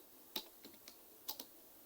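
A few light, quiet keystrokes on a computer keyboard, scattered single clicks and a quick pair, close but faint against a near-silent background.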